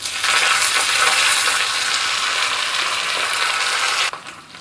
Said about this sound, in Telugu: అన్నిటినీ ఈ విధంగా వేపుకోవాలి.